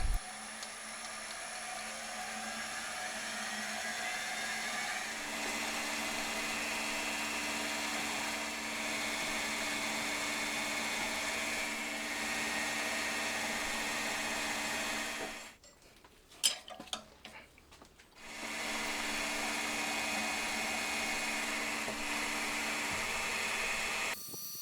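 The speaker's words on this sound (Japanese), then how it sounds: "工具をドリルチャックに持ち替えて穴開けをしていきます" Power drill spinning steadily while boring holes into a motorcycle cylinder head cover for a Honda Monkey engine, a sustained whirring hum that runs continuously, cuts out briefly to near silence with a few clicks, then resumes at the same level.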